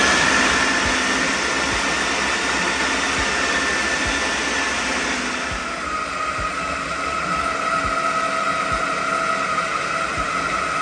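A food processor blends in a loud, steady motorized roar with a whining high tone, briefly shifting pitch midway as the contents churn, continuous throughout with no talking.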